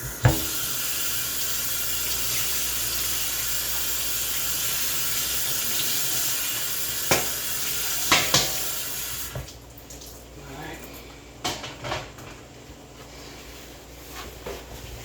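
Tap water gushes steadily into a kitchen sink while vegetables are rinsed, then cuts off about two-thirds through, leaving a few light clatters and drips.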